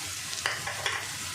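Ginger paste being added to onions frying in a pan, giving a steady broadband sizzle with two brief louder scrapes of stirring, no talk.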